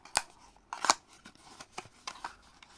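Scissors snip open a small black foil card booster pack, two sharp close cuts followed by lighter rustling and scattered clicks of the wrapper.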